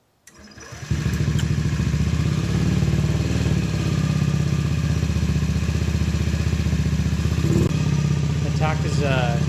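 A motorcycle fitted with a universal digital speedometer and tachometer starts and settles into a steady, loud idle, its rhythmic engine chatter running continuously up close, with a person talking briefly near the end.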